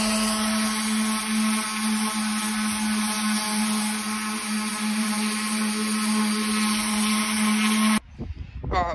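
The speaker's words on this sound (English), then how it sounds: "Let's start sanding the hole." A power sander grinds steadily at a hole in a boat hull, a loud continuous whine with a high edge lasting about eight seconds before it cuts off abruptly, leaving faint rustling.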